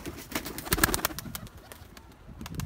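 Pigeons scatter as two hawks attack during a flock flight: a burst of close wing flaps and fluttering, with soft cooing, peaks early and then thins out to scattered flapping.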